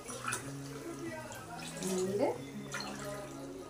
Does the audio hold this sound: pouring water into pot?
yes